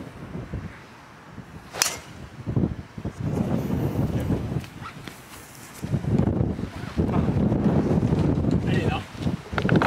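Wind gusts across a golf course near Marseille during a tournament play-off, rumbling and buffeting the microphone in rising and falling waves, with a brief whip-like swish partway through.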